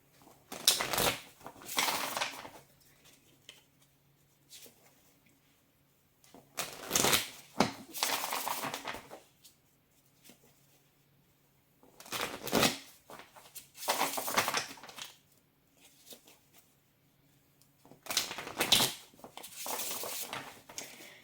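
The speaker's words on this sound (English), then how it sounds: "Let me shuffle these." Cards being shuffled in four quick bursts of riffling, each a second or two long with short pauses between, close and crisp with no talking.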